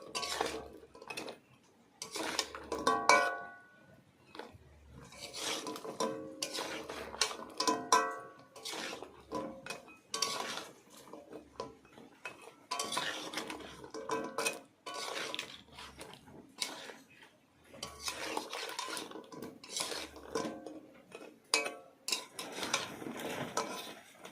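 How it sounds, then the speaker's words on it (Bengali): Goja sweets made from flour and sugar are stirred in thick sugar syrup in a pan, giving irregular scraping and clinking knocks of a utensil against metal with soft sticky shuffling between strokes, close and alone. "এবার আমি এই গোজাগুলো দিয়ে দিলাম এইভাবে নাড়তে হবে"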